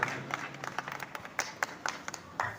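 Scattered applause at a kavi sammelan poetry gathering held by a Ramlila group, a handful of sparse, uneven claps, fairly close and moderately quiet, spread over a couple of seconds.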